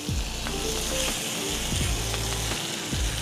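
Cajun turkey sizzling and frying on an oiled Blaze griddle, a steady loud hiss with occasional scraping clicks from a spatula, no voices.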